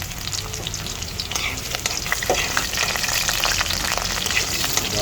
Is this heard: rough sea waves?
no